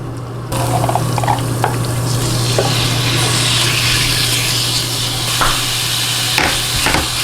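Pork kidneys stir-frying in ordinary cooking oil before sesame oil goes in, a steady broadband sizzle with faint spatula scrapes and clinks, close and continuous, over a low constant hum.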